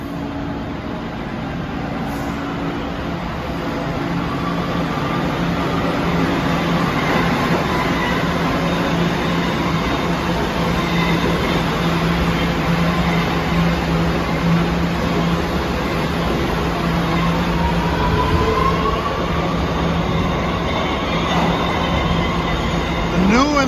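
An outbound New York City subway A train bound for Far Rockaway rolls past close by, a loud, steady rumble with metallic clatter and rising wheel squeal near the end. Someone speaks faintly.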